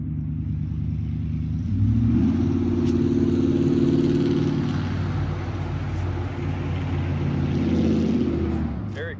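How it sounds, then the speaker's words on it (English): A very loud truck drives by an outdoor disc golf course, its deep engine rumble rising to a sustained roar and staying loud for several seconds as it passes nearby. "a guy drove by. And he's really cool. He has the loudest truck within a 1 mile radius"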